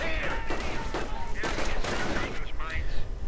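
Battle sounds from Company of Heroes 2, with anti-tank gun fire hitting a damaged Sherman tank and rifle fire against grenadiers: dense, continuous bursts of shots and blasts rumble throughout without a break, with faint speech mixed in.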